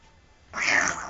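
A person mimics a cat with a single short, nasal meow that rises suddenly out of near silence.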